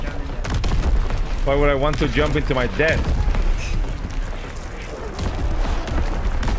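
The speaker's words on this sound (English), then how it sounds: "That's a lot of gunfire now." Gunfire and artillery blasts in a WW2 video game, a dense, continuous barrage of shots and booms filling the scene while someone talks over it.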